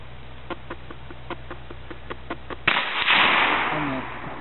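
A single sharp gunshot goes off outdoors, a loud crack followed by a rushing echo that fades over a second or so. Faint, evenly spaced ticks come before it.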